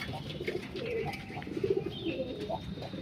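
Domestic pigeons, including a newly arrived pair, coo softly in a home loft, giving low rolling coos in a few repeated bursts close by.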